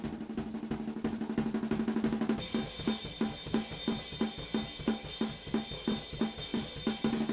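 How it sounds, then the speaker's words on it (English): Overhead mics on a crust punk drum kit pick up steady cymbal wash with hits beneath: a fast ride or hi-hat pattern that opens into bright, sustained crash shimmer, loud and continuous, with no voices. "And then we have the cymbals."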